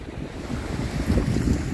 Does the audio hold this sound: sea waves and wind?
yes